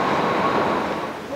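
A new London Underground Jubilee Line extension train runs in above-ground testing, giving a steady, loud rumble of rolling rail noise throughout with no clear breaks.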